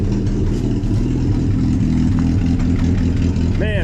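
The engine of a 1964 Jeep CJ5, recently freed from being stuck, runs with a loud, steady low rumble that stays close throughout, with speech faintly mixed in.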